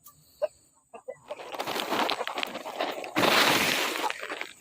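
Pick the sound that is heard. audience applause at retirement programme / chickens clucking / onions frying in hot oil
chickens clucking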